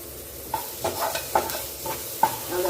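Quiet sizzling of onions and tomatoes sautéing in a pan, with several soft scraping stirs at irregular intervals.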